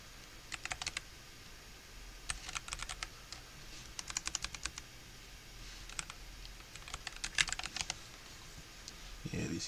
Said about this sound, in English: A little typing test.